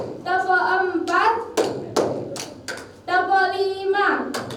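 Students in a classroom clapping their hands in a counted rhythm: several sharp, distinct claps spaced across a few seconds, alternating with a teacher's voice counting aloud in Indonesian.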